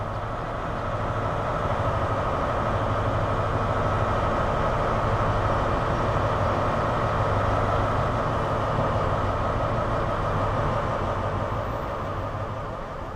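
A Class 43 HST train stands humming and running in Train Sim World 3, a steady, loud engine drone and rumble holding constant, with no distinct door sounds standing out.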